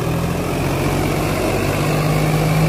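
Sonalika 35 tractor engine running steadily, a continuous low diesel rumble with a constant hum, close and loud, with no talk over it.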